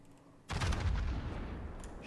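A heavy battleship main-gun salvo in World of Warships, a sudden loud boom after a quiet moment that rumbles on with a long, deep tail.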